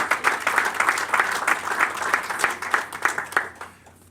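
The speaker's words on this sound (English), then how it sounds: "Can we get another round of applause, shall we?" Loud audience applause at a school board meeting honoring senior athletes, dense rapid clapping from a room of people that thins and fades out toward the end.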